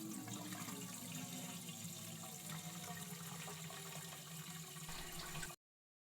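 Water pours steadily into a brewing vat in a beer brewing simulator game, a continuous rushing fill that runs evenly for several seconds and then cuts off abruptly.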